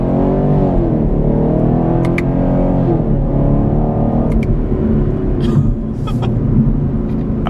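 A 2017 Chevrolet Camaro 2SS accelerates hard under throttle, its engine a loud, continuous roar whose pitch climbs steadily, dips at a gear change and rises again, with faint wind and road noise around it.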